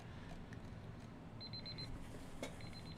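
A break timer alarm beeps in rapid repeated bursts of short electronic tones, two quick clusters over a low steady background hum, faint and somewhat distant.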